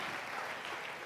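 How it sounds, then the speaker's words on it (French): A church audience in Kinshasa gives a brief burst of applause, a dense wash of clapping that holds steady for about a second. "Acclamons très fort pour le"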